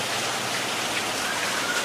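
Rain pours down at the end of June in Wenatchee, a dense, continuous hiss of drops on surfaces, loud and unbroken, with a faint hint of distant activity beneath.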